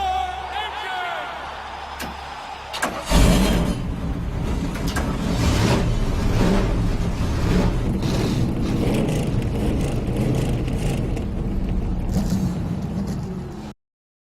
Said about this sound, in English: Gentlemen, start your engine!